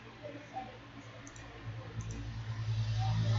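Typing on a computer keyboard during a networking exercise: quick, faint clicks of keys tapping over a low background hum.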